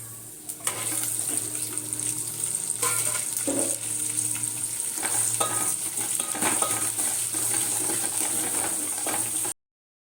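Onions and green chillies fry in a pan for sambar, giving a steady close sizzle broken by scraping stirs, until the sound cuts off abruptly near the end.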